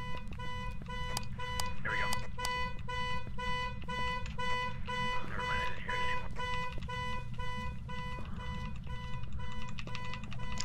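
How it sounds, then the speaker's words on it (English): A car alarm in the video game Phasmophobia sounds continuously, a steady pattern of repeating electronic beeping tones at moderate loudness, with faint rustling and clicks underneath. "We're gonna have a car alarm the rest of the time."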